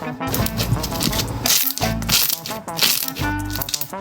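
Pearl-filled slime is squeezed and worked by hand, giving loud, dense crackling and popping bursts in several waves with brief pauses between them.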